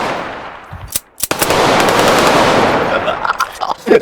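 Loud, close gunfire, with a few sharp shots followed by a sustained, dense burst of rapid automatic fire and scattered cracks toward the end.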